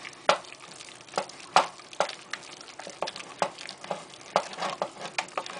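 Thick cream puff choux dough stirred and scraped against the sides of a pan, giving repeated sharp scrapes and wet slaps in an irregular rhythm, close up with no talk.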